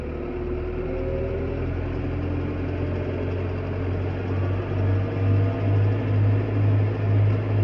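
An engine idles with a low, steady hum, then pulses in a series of rhythmic revs that swell and fall toward the end.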